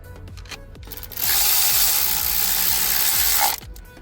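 Rapid ratchet clicking fills the middle of the clip as inverted Torx bolts are tightened on top of a Mercedes M276 V6 engine, with a few isolated clicks before and after the burst.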